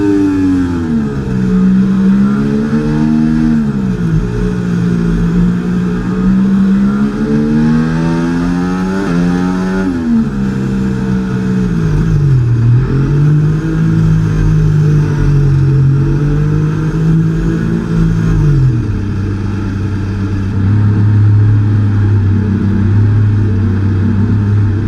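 An F1 car engine on the Monaco formation lap in F1 24 hums and revs in a continuous tone that swoops up and down as the throttle changes. It stays loud and close throughout, with no speech.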